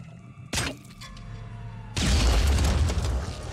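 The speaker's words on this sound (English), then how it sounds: "This is going to be another grenade coming in." A grenade goes off in the tactical video game Phoenix Point: a short crack first, then a loud, full blast that rumbles on for over a second with a heavy low-end boom and debris-like crackle.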